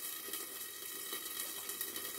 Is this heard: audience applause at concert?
no